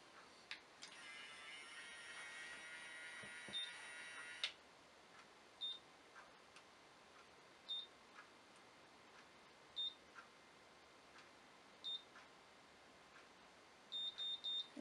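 A Babyliss Curl Secret hair curler gives short, faint electronic beeps at regular intervals of about two seconds, then a quick cluster of beeps near the end, all over a quiet room hiss.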